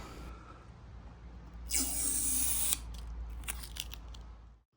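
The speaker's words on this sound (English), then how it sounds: "here's the satisfying noise of removing the screen protector" A thin plastic screen protector film is peeled off a battery tyre inflator with a steady crackling hiss that swells, then breaks into a few sharp crinkly snaps before going quiet.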